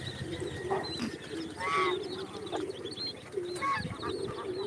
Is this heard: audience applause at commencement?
no